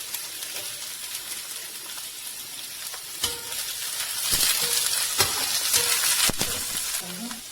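Finely chopped carrot frying in a pan, sizzling steadily while it is stirred, with a few sharp scrapes and clicks of the spoon against the pan. A voice speaks briefly underneath.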